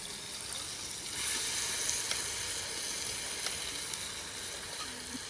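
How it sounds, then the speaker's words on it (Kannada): Stone-ground masala paste sizzles in hot oil for tempering a country chicken curry, a steady hiss that swells slightly, with a few faint clicks and no talking. "ಆ ಮಸಾಲೆನ ಹಾಕ್ತಾ ಇದ್ದೀನಿ ಇವಾಗ ಒಗ್ಗರಣೆಗೆ."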